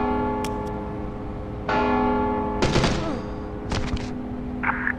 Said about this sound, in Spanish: Estoy escuchando una campana y me está dejando sordo.